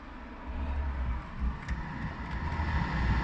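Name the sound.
BMW E46 climate control blower fan running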